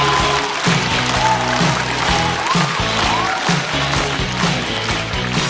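A studio audience at a stand-up comedy show applauds steadily as a comedian is welcomed on stage, dense and continuous clapping over a low musical backing.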